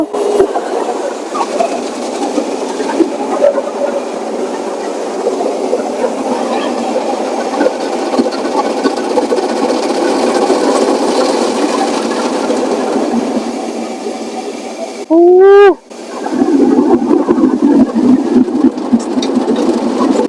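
An automatic car wash machine in Japan runs with a loud, steady mechanical whirring and rushing roar, broken near the end by a brief rising whine and a short pause before the churning resumes.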